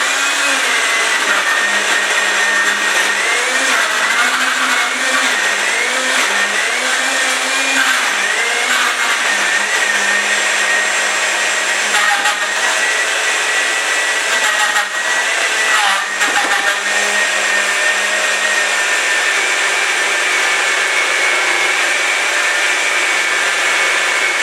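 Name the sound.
blender mixing protein sorbet ingredients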